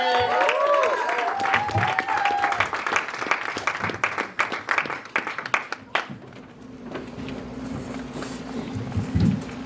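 Comedy club audience at a stand-up showcase at Dad's Garage Theatre applauding and cheering a comic's introduction, a swell of clapping that thins out and fades, with a voice speaking over it.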